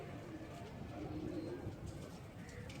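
Pigeons cooing in a loft among racing and fancy pigeon birds, low soft repeated coos under a steady faint background murmur.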